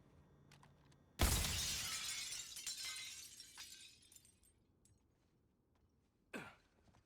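Glass shatters with a loud, sudden crash in the Suicide Squad: Kill the Justice League video game, the debris ringing on and fading over several seconds before a second short impact near the end.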